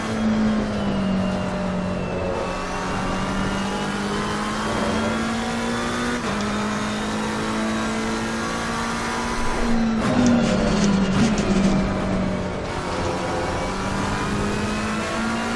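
Race car engine in Assetto Corsa Competizione at Laguna Seca, revving loud and steady as it climbs through the gears, with a clear pitch drop at each upshift around the middle of the run and no talk over it.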